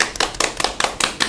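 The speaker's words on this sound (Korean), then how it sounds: "박수!" Quick, brisk clapping: about seven sharp, close hand claps in an even rhythm lasting just over a second, from a small group applauding on cue at a Korean talk show about the marines.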